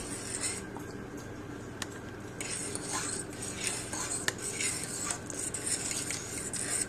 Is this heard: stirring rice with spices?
yes